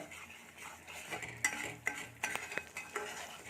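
A spoon scrapes and clinks in a pan as turmeric powder is stirred into frying masala over medium flame for an Odia crab curry, with a faint sizzle underneath and a few sharp metallic taps, close and quiet.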